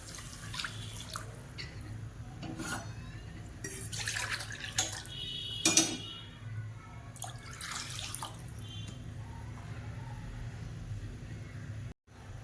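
Water is poured into a pot of rice in short splashing bursts, fairly quiet and close, with faint room noise between pours.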